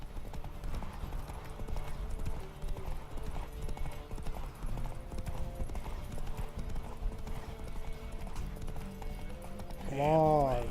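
Rhythmic hoofbeats of a galloping horse in The Witcher 3: Wild Hunt run steadily under game music and a talking voice, ending with a brief whinny-like rising sound.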